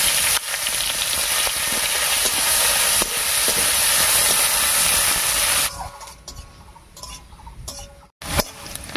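Chopped onion frying in leftover oil with dried red chilli and cumin seeds, a loud continuous close sizzle that drops to a quieter crackle with occasional ticks and a spoon clink toward the end.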